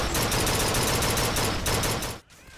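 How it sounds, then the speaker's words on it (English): Dense, sustained gunfire from the first-person shooter BioShock Infinite, a rapid continuous volley of loud shots lasting about two seconds before cutting off abruptly into near silence. "it's not satisfying to shoot at enemies that just soak up the bullets"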